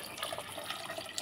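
Water poured into a cooking pot of cooked lentils for bisi bele bath, a steady soft splashing stream that runs the whole short moment at moderate volume, with no voices.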